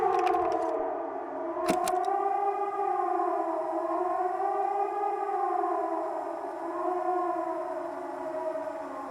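A siren in the video game Season: A Letter to the Future wails steadily in long rising and falling tones, loud and close, with a brief sharp burst near the start and no voices.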